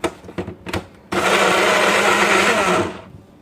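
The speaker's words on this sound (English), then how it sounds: "And it's time to blend." A few brief clunks give way to a blender whirring loudly and steadily for about two seconds before winding down.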